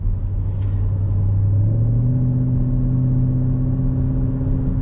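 A 2008 Mercedes-Benz ML63 AMG with an ECU tune and 7-speed automatic idles off throttle, giving a low, steady engine rumble close by that settles into a smooth, even drone with no talking.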